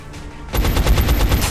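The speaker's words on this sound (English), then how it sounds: "our heavy can get a shot off" A heavy soldier in XCOM: Enemy Unknown opens up with a loud, rapid burst of machine-gun fire that stutters evenly for about a second after a brief quieter lead-in.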